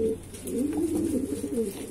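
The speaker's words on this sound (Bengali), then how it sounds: "পায়রা পুরো রানিং উঠছে, দেখুন পায়রা" Racing pigeons of the ghiya patti type cooing close by, a soft warbling rolling coo repeated in a continuous low stream over quiet background hiss.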